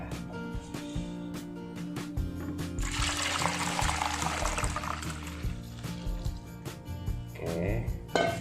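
Milk poured into egg custard batter in a bowl makes a steady liquid splash and trickle under light background music, loudest in the middle stretch and tapering near the end.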